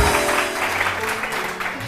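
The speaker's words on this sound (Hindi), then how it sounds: "जबरदस्त तालियां, बहुत सारी तालियां" Studio audience applause on a TV morning show, steady clapping of moderate loudness with some low background sound underneath.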